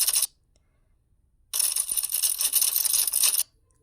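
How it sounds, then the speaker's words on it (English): Typewriter sound effect in a video editor, a short burst of crisp clicking and rattling, then silence, then a longer dense run of rapid keystroke clatter that stops abruptly; close and loud, with no speech. "This is the final result for the typewriter effect."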